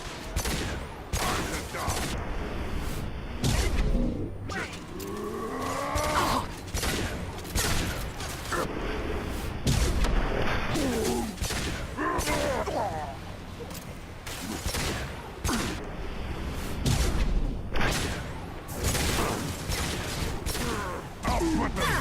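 Rapid gunfire and heavy shots from a video game battle against enemies, loud bursts repeating densely throughout while voices talk over the combat.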